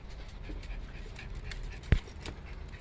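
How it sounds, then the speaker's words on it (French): A small dog pants softly and gives faint whimpers close by, with a single sharp knock partway through and quiet indoor background noise. "Le chien ressemble à rien."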